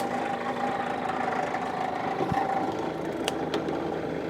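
A 1954 Ford F600 truck engine runs at a steady idle, a continuous even rumble with a low hum throughout and a couple of brief clicks near the end.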